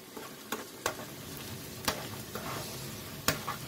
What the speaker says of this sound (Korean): 적당히 잘 배일 수 있도록 면으로 감아줍니다. 춘장 소스를 이렇게 감아줍니다.